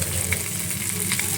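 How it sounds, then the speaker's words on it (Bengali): Onion hitting hot oil in a pan for a bhetki fish head curry, giving a brief, dense, bright sizzle that stays steady and close with no talk. "এবার এই পেঁয়াজটা দিয়ে দেব।"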